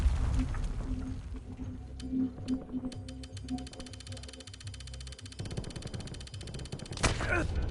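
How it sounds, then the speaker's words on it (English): Gunfire in the shooter Warzone, with scattered faint shots and bursts mixed into game ambience and radio-like chatter, then a louder crack near the end. "Taking effective fire!"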